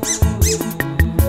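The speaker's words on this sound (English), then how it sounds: "I love my squeaky toy." A squeaky toy squeaks repeatedly in quick, rhythmic pulses, about six sharp, close squeaks in just over a second, each with a whistly rising-falling tone.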